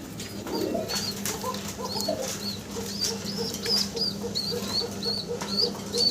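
Pigeons feeding two chicks, with steady soft cooing and thin repeated high chirps over a constant low hum, no voices.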